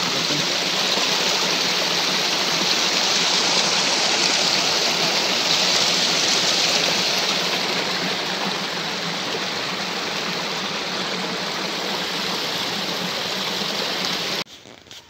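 Water gushes steadily through a village pipe fed without electric pumping, a loud, continuous broadband rush like a stream that holds constant before cutting off abruptly near the end.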